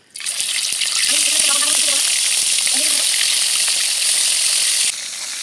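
Chicken pieces frying in oil for a biryani give off a loud, steady, dense sizzle that runs almost the whole way through, with a faint voice murmuring briefly beneath it.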